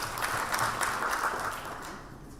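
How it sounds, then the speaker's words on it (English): Applause for a panel member at a county government tariffs and pricing policy launch: a dense wash of audience clapping that starts full and slowly fades toward the end, no talk over it. "A clap for him."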